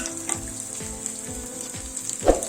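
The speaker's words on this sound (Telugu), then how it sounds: "ఇప్పుడు దీంట్లో మనం రొయ్యలు వేసుకుంటాం." Prawns frying in a pan while snake gourd curry is cooked, with a steady close sizzle, a few stirring scrapes and a louder burst near the end.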